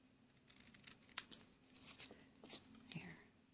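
Scissors snip and trim card paper for a handmade tool box card, a few soft close cuts and crisp rustles in an uneven rhythm, faint in a quiet room.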